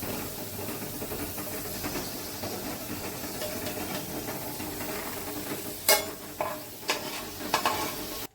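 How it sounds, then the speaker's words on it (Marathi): Food fries in hot oil in a pan with a steady, soft sizzle and hiss, then a few louder scrapes and stirs land near the end. "असं एवढा लाल होईपर्यंत फ्राय करून घ्यायचं"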